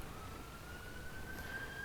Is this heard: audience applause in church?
no